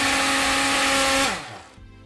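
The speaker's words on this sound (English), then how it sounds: "The mix is quite dry until it gets going in the blender" A kitchen blender whirs loudly while mixing a thick sauce with almond milk, a steady high motor whine that winds down and stops near the end.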